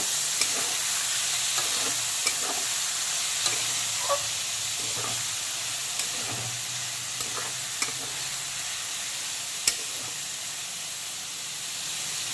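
Chopped onions fry in a pan with a steady close sizzle and hiss, punctuated by occasional light scrapes and taps of a stirring spoon, with no voices.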